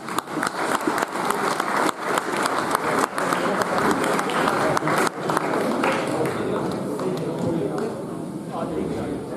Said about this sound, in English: big round of applause to our ladies who have come today, please.